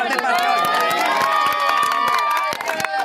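A village crowd claps and cheers at a speech by a candidate for sarpanch, a dense, steady roar of shouting voices with sharp handclaps cutting through it close by.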